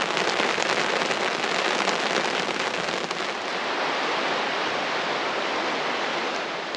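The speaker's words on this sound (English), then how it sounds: "as soon as I light a fire, it starts to rain again" Steady rain pours down on a campsite, a dense, even hiss of drops striking the ground and gear that stays loud and constant throughout, slightly easing toward the end.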